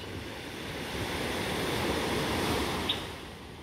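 Ocean waves wash onto a small private beach beside a shipwreck, a steady broad surf roar with some wind noise that swells slightly and holds throughout, with no voices.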